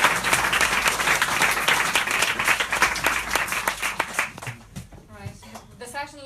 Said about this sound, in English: So a big round of applause for Mark McGinley.